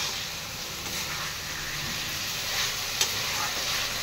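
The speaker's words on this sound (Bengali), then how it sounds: "মশলাটা কষিয়ে আলু পটলটা দিয়ে দিয়েছে" Potato and pointed gourd cooking in a spiced masala, a steady close hiss of frying with faint stirring and one brief clink, no voices.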